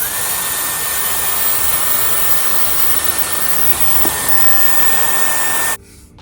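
A Dyson Airwrap or Shark Flexstyle hair styler with a large barrel blows a loud, steady airflow roar for nearly six seconds, then cuts off abruptly, leaving near silence. No talking is heard.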